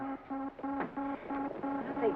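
A spaceship's blastoff synchronizer from a 1950s sci-fi TV series beeps in a steady pulsing electronic pattern of repeated tones, with speech briefly cutting in over it.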